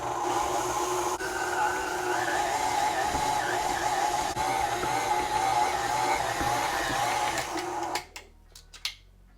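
Stand mixer with a dough hook running on low while kneading marshmallow fondant, giving a steady close motor whir with a faint rhythmic knock, stopping abruptly near the end with a few light clicks after.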